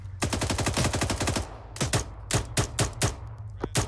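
Automatic gunfire in the military video game Arma 3: a rapid burst of sharp shots followed by several slower, separate shots, loud and close, with no talk over them.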